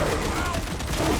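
Gunfire in a video game rings out as a dense, continuous burst of shots, loud and close, with some talk mixed in.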